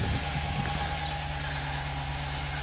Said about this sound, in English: I went ahead and started the vehicle.